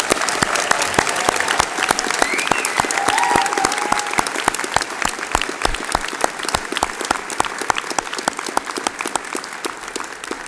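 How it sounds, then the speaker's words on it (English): Sustained applause from a large audience at a university graduation ceremony, dense steady clapping that holds evenly for the full stretch and tapers slightly at the end. "can we have a big special round of applause for Simon Robinson"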